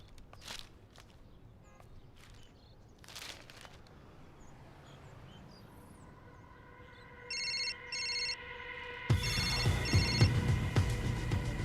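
A telephone bell rings in a home in repeated bursts that grow louder, beginning after a stretch of quieter footsteps and household movement, with no voices heard.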